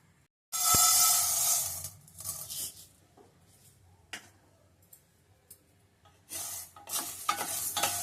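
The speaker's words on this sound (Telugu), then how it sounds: "ఇవి స్టవ్ మీడియంలో పెట్టుకొని వేయించుకోవాలి" Black gram lentils roast in a pan, giving loud bursts of dry rattling and scraping as they are stirred, broken by short quieter pauses, close up and with no talk.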